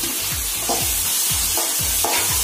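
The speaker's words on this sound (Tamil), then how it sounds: "இந்த டைம்ல நான் வந்து டொமேட்டோஸ் ஆட் பண்ணிக்கிறேன்." Tomatoes added to onions frying in a pan for egg bread burji, a loud, close sizzle with a quick regular rhythm of spatula strokes, around seven scraping stirs over a couple of seconds.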